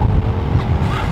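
Hypercar roadster engine rumbling close by with a dense low-frequency roar and steady throttle, fitting the wastegate chatter of a turbocharged car, loud and continuous over about a second with no voices.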